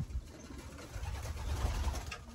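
Pigeons in a racing pigeon loft give low, soft coos in a steady murmur, with a few brief rustles.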